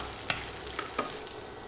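Chopped onion and garlic fry in oil while a utensil stirs them, producing a quiet, soft sizzle broken by a few distinct scraping strokes against the pan, with no talking.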